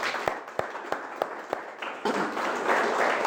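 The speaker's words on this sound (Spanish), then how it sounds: "Dele un aplauso al Señor, mi hermano." Congregation applauding at a Spanish-language church service, a few sharp separate claps at first, then building into steady, dense applause that fills the room.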